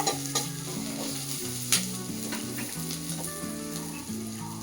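Capsicum fries in a pan over roasted onion for a paneer gravy, a steady sizzle with light stirring scrapes and occasional clinks, while tonal background music plays along.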